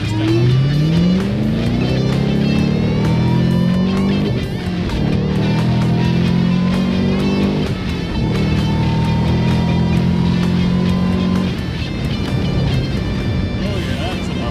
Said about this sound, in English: I'm going to put it down in second and stand on it, and we'll see how it goes.